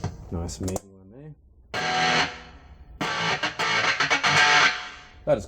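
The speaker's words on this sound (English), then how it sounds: "I just call this distortion Tin Shed because it sounds like you're in one." Electric guitar through the gritty, boxy 'Tin Shed' distortion on a MUZA GP300 multi-effects pedal, loud distorted chord bursts separated by short gaps and sudden cut-offs.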